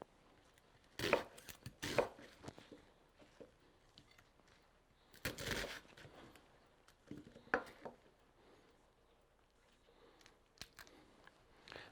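A knife coarsely chops an onion against a cutting board in irregular bursts of quick taps, close and fairly quiet, with pauses between.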